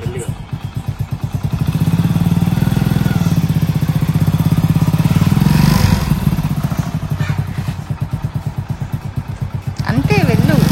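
A motorcycle engine chugs in a steady low thumping rhythm as it is ridden slowly on a farm plot, rising briefly then settling, with a person calling out instructions over it.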